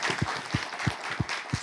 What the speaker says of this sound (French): Non, applaudissez, il a une nouvelle chaussure.